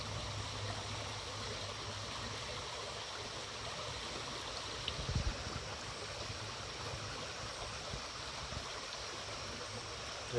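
Stream water rushes steadily near a tributary sampling site while a sample bottle is dipped in for a single scoop, a brief splash standing out midway over the constant flowing wash.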